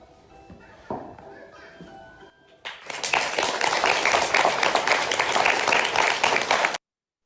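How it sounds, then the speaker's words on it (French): Audience applause for a children's theatre performance in France breaks out and swells into sustained, dense clapping lasting several seconds, following a quieter stretch of faint murmuring and movement, then stops abruptly. "Мы тоже аплодируем спектаклю."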